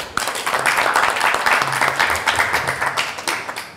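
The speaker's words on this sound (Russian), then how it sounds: "Аплодисменты." A studio audience on a Russian television show applauds a guest's entrance with a dense, steady wash of clapping that continues for several seconds and tapers slightly at the end.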